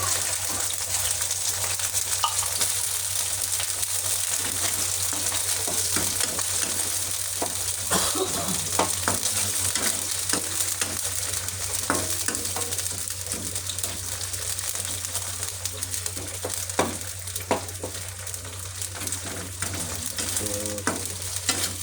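Canned sardines fry in a pan with garlic and onions, a constant crackling sizzle under intermittent stirring and scraping of the spatula, close and steady with a low background hum.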